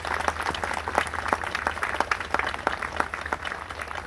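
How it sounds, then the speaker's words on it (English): An audience claps in a steady round of applause at a memorial gathering, many hands blending into dense, even clatter with sharper individual claps poking through, sustained at moderate loudness across the whole stretch with no voices. "I think he did a wonderful job and deserves a round of applause."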